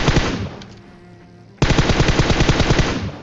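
An MK14 rifle in a battle royale video game fires rapid bursts, a dense string of loud close shots, a brief quieter pause, then another sustained volley.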